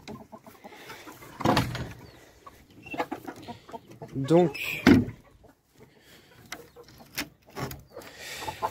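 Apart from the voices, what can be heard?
chickens clucking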